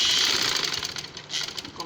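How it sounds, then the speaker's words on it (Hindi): A sewing machine hums with a fast, steady stitching rattle as a rose-flower tassel is sewn, running close and continuous beneath a person talking. "उसी के ऊपर हम सिलाई लगाएंगे और यहाँ से हम सिलाई इसको डबल करने के बाद"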